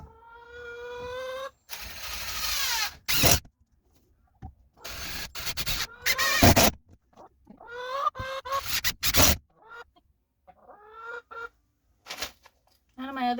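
Chickens cluck and murmur close by inside a coop, in short irregular bursts of soft clucks and trills separated by quiet gaps, with some handling and scuffing noises.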